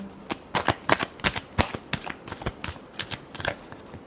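Tarot cards shuffled by hand in a run of crisp, quick riffling bursts and snaps, close and fairly loud, with no talking.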